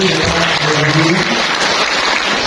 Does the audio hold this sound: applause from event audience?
yes